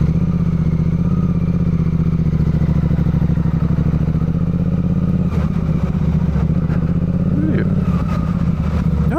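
A 2024 Suzuki GSX-8R motorcycle engine runs steadily at close range with a low, pulsing idle rumble, some clatter and brief rev changes near the end.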